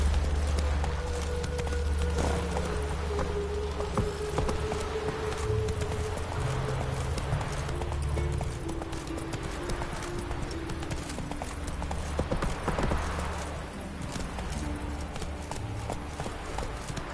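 A horse gallops in The Witcher 3, rhythmic clip-clopping hooves carrying steadily from start to finish over a low rumbling game background, moderately loud with no speech.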